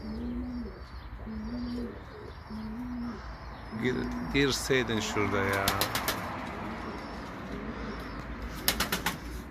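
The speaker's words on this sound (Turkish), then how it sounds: "Birazdan kuşlar çıkmaya başlar zaten." Racing pigeons coo softly in a loft, then a flurry of wingbeats and flapping erupts nearby as the birds fly out, with someone speaking briefly over the commotion.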